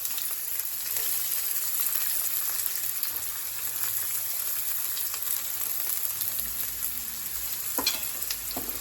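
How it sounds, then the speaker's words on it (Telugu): Onions fry in hot oil for a prawn curry, a dense continuous sizzle close up with occasional scrapes and clinks of a spoon stirring the pan. "దీన్ని మంచిగా ఇప్పుడు ఫ్రై చేసుకోవాలి"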